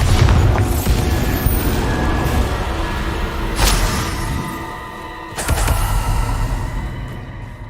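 Bombarda spell explosions in the video game Hogwarts Legacy: heavy booming blasts with shattering debris, one sustained rumble at the start and two more sharp bursts later, loud and close over a continuous low roar.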